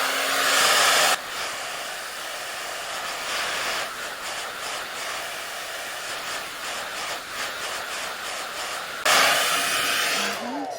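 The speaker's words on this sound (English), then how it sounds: "I'm going to go in with my blow dryer on cool settings" A loud hair dryer blasts on a cool setting over a curly wig at the start and again near the end, with a quieter steady whir and faint rustling in between.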